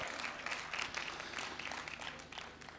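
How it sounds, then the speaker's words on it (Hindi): A comedy poetry show audience claps on cue, a fairly faint, continuous spatter of many hands with a low hum underneath, steady for the whole stretch. "तालियां बजाओ, बहुत जोरदार बजाओ"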